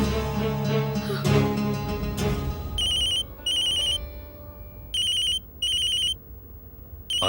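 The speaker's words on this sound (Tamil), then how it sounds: "அர்ச்சனா தான் ஃபோன் பண்றா." A telephone rings in repeated electronic bursts, four separate high trilling rings with short pauses between them, following a stretch of louder indoor background sound.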